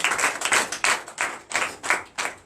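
A church congregation claps together in a fast, steady run of sharp, close applause with a few slight pauses, brief and loud with no voices over it.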